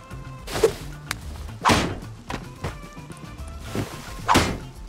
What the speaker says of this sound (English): Someone just hit a tree over here.